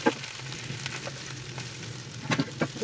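Onions fry in oil in a saucepan with a steady, close sizzle, broken by a few sharper crackles and the scrape of stirring near the end.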